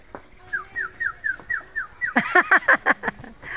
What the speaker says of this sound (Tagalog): May ibon, may ibon.